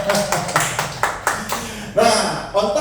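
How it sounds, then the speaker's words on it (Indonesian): Rhythmic group clapping from an audience at a talk, loud and close, with distinct claps repeating in an even beat and a brief ringing accent near the end. "Tepuk tangan buat Anda."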